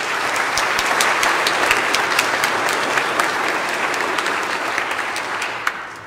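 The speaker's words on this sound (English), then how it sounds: "Let's give them a round of applause." Congregation in a church claps steadily for the newly confirmed at a Sunday Mass confirmation, a dense, sustained wash of applause with no talk, tapering slightly toward the end.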